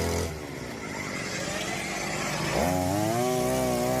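Small engine of an arecanut tree climbing scooter, running loud and close with a rough steady drone, then revving up sharply partway through as it is throttled.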